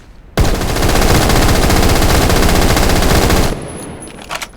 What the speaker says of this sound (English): this thing can increase RPM, which is why I think it's a good minigun